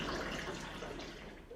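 Filtered water poured into a large glass, a short continuous splashing pour, close and fairly soft.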